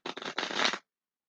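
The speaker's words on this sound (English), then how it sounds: "really shuffling the Raphael cards a lot, because sometimes they seem to clump up, and I just want to shuffle a good shuffle" Tarot oracle cards from an Archangel Raphael deck being shuffled: a short, close, papery riffling burst of less than a second, with brief gaps between flurries, then silence.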